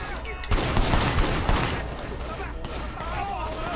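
Gunfire in the open-world action game Sleeping Dogs comes as a rapid, dense fusillade of shots over a busy game mix, with a player's voice talking over it.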